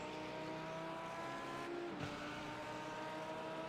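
A Lamborghini race car in an IMSA endurance racing video game holds a steady, droning engine note throughout, with a brief pitch dip near the middle as it shifts or lifts, continuous and fairly quiet with no voices.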